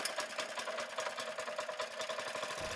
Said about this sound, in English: Start the machine by pulling the starter cord.